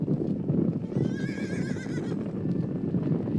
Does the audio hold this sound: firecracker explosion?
no